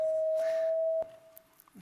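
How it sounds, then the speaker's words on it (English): A steady pure electronic tone from a head-worn color sensor signals the color purple, holding for about a second before cutting off, with faint room sounds after. "this is the sound of purple."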